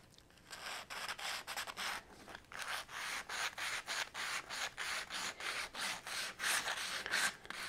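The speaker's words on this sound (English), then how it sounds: "taking our sandpaper and taking these sharp corners off and rounding them" Coarse sandpaper rounding the corners of a plastic electric guitar part, about two dozen rhythmic back-and-forth rasping strokes, close and faint, with no voices.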